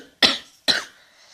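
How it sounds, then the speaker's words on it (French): Two sharp, harsh coughs, close and fairly loud, about half a second apart, each trailing off briefly, from a woman hoarse with tracheolaryngitis. "je tousse comme une dingue"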